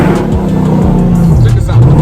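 A loud Dodge Charger engine revs near a beach, its deep growl rising in pitch toward the end of the short burst and standing out above the background noise.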